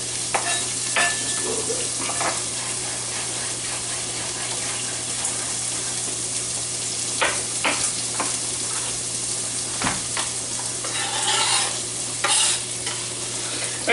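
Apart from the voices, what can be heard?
onion frying in a pan for carbonara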